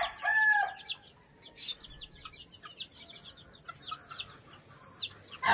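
Six white Kelso gamefowl hens cluck in bursts with brief chirpy calls, fairly close, over a steady low background hum.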